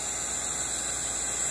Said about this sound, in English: Now get you an embossing gun.